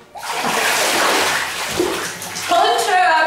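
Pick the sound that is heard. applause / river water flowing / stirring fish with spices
river water flowing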